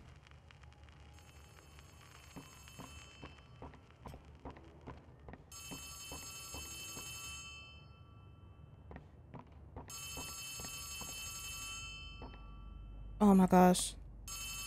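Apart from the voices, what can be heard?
telephone ringing in video game Poppy Playtime Chapter 3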